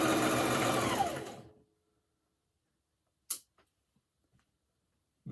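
A sewing machine stitching fabric for a mask hood whirs steadily and loudly for about a second and a half, then stops, leaving near silence broken by a few faint clicks.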